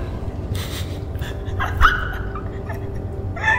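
A dog gives a few whimpers, yips and short barks in a room, moderately close and fairly soft, with breathing and a faint hum behind.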